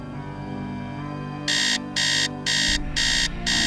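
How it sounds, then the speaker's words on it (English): An electronic alarm clock in a Nancy Drew video game, Message in a Haunted Mansion, begins after a quiet stretch and beeps loudly in four or five evenly spaced harsh buzzing pulses. "I actually am like old enough that I had an alarm clock that sounded just like that."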